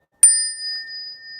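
A single bright Buddhist ritual bell strike rings out and sustains, its clear metallic tone fading slowly over the following second.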